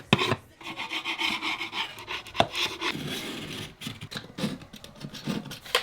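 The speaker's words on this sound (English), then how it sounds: "all of the little mortar pieces that need to be chipped off" A wood chisel scrapes and chips at mortar pieces in rough, uneven bursts of rasping and grinding, with a few sharper knocks, close and fairly loud with no talk.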